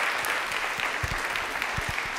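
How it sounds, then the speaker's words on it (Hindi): An audience applauds steadily at a televised Rajasthani quiz show, a dense even wash of clapping that holds throughout at moderate loudness, with no voices over it. "तालियां प्लीज इनके लिए जोरदार वाली हो जाए"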